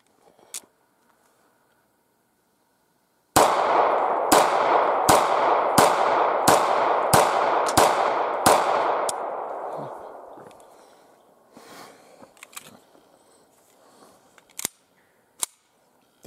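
A pistol is fired outdoors in the mountains, about eight sharp, loud shots in quick steady succession, each ringing out with a long echo that fades, followed by scattered faint clicks and a couple of louder knocks.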